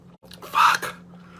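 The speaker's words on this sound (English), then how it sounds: "hiccups." A single sharp hiccup from a person who has just eaten a very spicy chip in a one chip challenge, a short close voiced burst near the middle, alone with a faint steady hum behind it.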